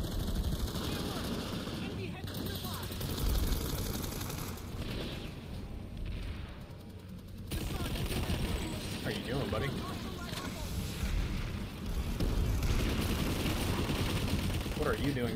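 Sustained automatic gunfire from Planetside 2 combat, with dense rattling bursts and distant explosions running throughout, mixed under a voice talking.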